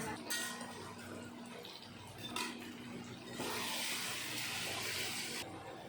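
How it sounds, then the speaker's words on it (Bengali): Broth of mustard greens and fish boils in a pot with continuous bubbling and hissing, rising to a louder, denser bubbling surge partway through. "ঝোল ভালো মতন ফুটতে থাকুক"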